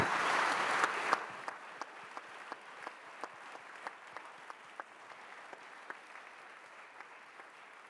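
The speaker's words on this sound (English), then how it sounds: "let's give you a round of applause first" Audience applause at an economics conference in Berlin, a dense burst of clapping that fades after about a second into a thinner patter of scattered claps continuing steadily, moderately distant in a hall.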